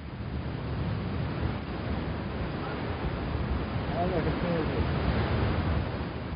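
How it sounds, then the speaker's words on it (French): Strong sand wind blowing steadily across open desert country in Mauritania near the Senegal River, a dense, continuous roar of gusting air with no pauses, loud and close throughout. "Le vent de sable s'est levé."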